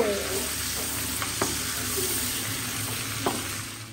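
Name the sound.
prawns frying in a pan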